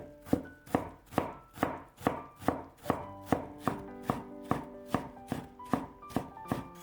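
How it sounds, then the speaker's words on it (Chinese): A kitchen knife chopping potato into small dice on a cutting board, producing about fifteen crisp, evenly spaced thuds in a steady rhythm, close and clear with no talking. "最后切成小碎丁。"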